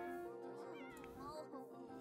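Cat meowing in the Disney Princess game Hello Alice: a few short, rising mewing calls over game music, fairly faint.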